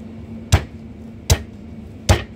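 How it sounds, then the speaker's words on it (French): A butcher's cleaver chops through lamb rib chops on a block with three sharp, evenly spaced thuds about 0.8 seconds apart, close and loud over a steady background hum. "Donc on va le faire à la feuille."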